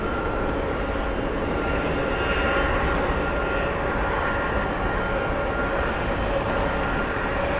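A United airliner at Heathrow Airport gives off a steady, loud, unbroken engine roar that holds constant throughout with no talk.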